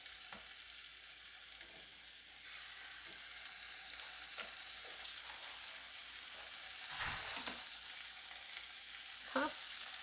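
Shrimp fry in a pan with seasoning and a little wine, giving a soft, steady sizzle with a few faint clinks of tongs, and no one speaks.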